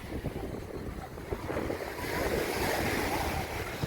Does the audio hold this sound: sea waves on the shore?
yes